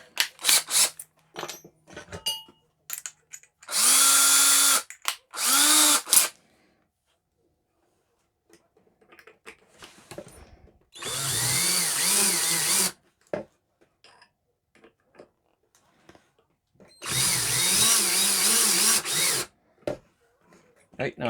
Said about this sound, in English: Oh, well, I need to drill.